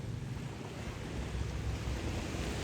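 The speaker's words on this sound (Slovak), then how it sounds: "Trošku akože sem tam sú vlny, hlavne záleží, prejde nejaká loď alebo nie." Sea waves at Karon Beach in Phuket, Thailand, a soft continuous wash of surf with steady low rumble and some wind, heard alone without voices.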